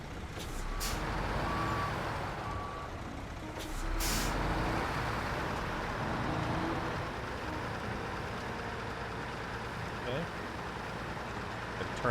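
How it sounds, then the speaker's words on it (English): Truck engine idling in SnowRunner, a steady low rumble droning throughout with a couple of brief air-brake hisses early on, while a voice talks over it. "Turn off on the engine on the truck behind us because it's getting a little froggy back there."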